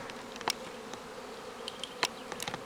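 A honeybee swarm in a tree buzzes steadily at close range, with individual bees zipping past now and then in short, louder whooshes over a faint hum.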